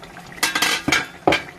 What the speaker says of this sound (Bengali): ঢাকাটা তুলে নিচ্ছি।